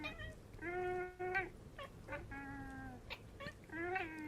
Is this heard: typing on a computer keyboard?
no